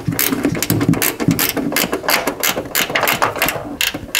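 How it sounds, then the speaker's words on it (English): A bolt being tightened during a hood gas strut install on a 2022 BRZ/GR86, heard as a quick run of close, sharp ratchet clicks in an uneven rhythm. "we'll just tighten that bolt up."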